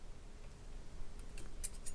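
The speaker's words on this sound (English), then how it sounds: "Now we're just going to come in with our scissors," A few quick, crisp snips of scissors cutting thread while tying a Woolly Bugger fly, near the end of a quiet stretch, close and faint.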